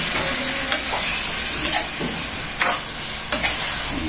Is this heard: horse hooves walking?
no